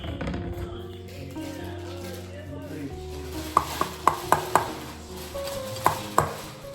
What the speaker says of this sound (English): After I drain the pasta, I stir the sauce